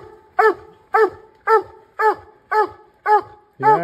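Hunting hounds barking at a bear in the Northern Maine woods: seven sharp, evenly spaced barks about half a second apart, loud and close, with no talking.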